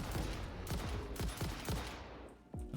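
Gunfire in the video game Satisfactory comes as a rapid run of loud shots in a steady burst, then a short gap and one more shot, with no talking.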